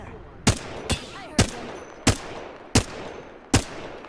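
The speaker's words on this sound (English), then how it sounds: "They were shooting at other people too." Six evenly spaced, sharp single gunshots in Apex Legends ring out roughly every half second to second, each one loud and distinct over a low background.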